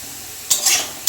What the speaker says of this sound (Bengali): আস্তে আস্তে ভেজে নেবো লাল লাল করে। এই আমার আলুটা ভাজা হয়ে গেছে,